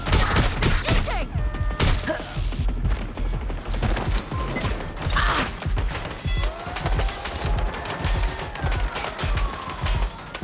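Heavy gunfire in the action game Watch Dogs: Legion crackles in dense overlapping volleys for the whole stretch, loud and chaotic with crashes mixed in.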